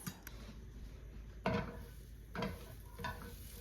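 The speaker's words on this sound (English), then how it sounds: "let's go ahead and cook those eggs. I like to do kind of like the low and slow method where I stir pretty consistently" Eggs cook low and slow in a pan on a stove with a quiet sizzle. Three unhurried stirring scrapes from a utensil stand out against the soft background.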